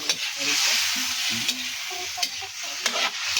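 Vegetables sizzle in a hot pan for a coconut-milk dish while a utensil stirs them, giving a steady frying hiss broken by sharp scraping clicks at irregular intervals.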